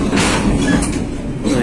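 A Kuala Stabas passenger train between Baturaja and Tanjung Karang, Indonesia, rumbling and jolting hard on the rails, a short burst of heavy clattering noise up close.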